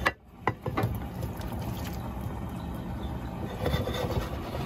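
Water is poured into a cooking pot with rice for galinhada inside a motorhome in Chilean Patagonia, a faint, steady trickling fill after a couple of soft knocks, with no talk.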